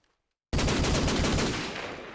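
Desert Eagle pistol fire in Call of Duty 4 ProMod, a sudden loud burst of rapid overlapping shots after half a second of silence, sustained and slowly fading.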